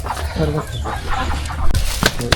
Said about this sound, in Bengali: এখানে কিন্তু অনেক হাঁস পালন করে এই যে নেটের ভিতর অনেকগুলো হাঁস রাখছে